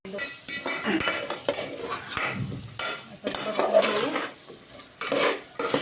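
Tomatoes, potatoes and peas in a pot are stirred hard with a metal spoon, giving repeated scraping and clanking against the vessel over a soft sizzle.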